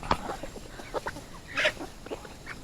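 Free-range chickens on a farm in Bauang, La Union cluck in short, scattered bursts nearby, several birds calling over a soft outdoor background.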